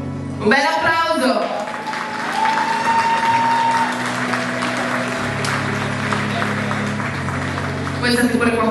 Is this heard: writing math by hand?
no